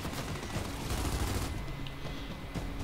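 Rapid automatic weapon fire in the video game Gears 5, a dense burst of gunfire rattling loudly for about a second and a half, then thinning into scattered softer shots and game noise.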